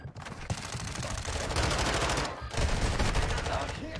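A Lockman 556 rifle rattles off rapid bursts in a shooter game, loud close automatic fire in two long strings split by a brief gap.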